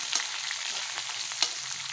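Shallots, onion and green chillies frying in a pan for a prawn dish, a steady close hiss of sizzling with a couple of sharper scraping stir strokes, no voices.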